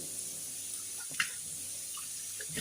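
Tap water runs with weak flow in a steady, quiet trickle, with one brief clink partway through and no talking.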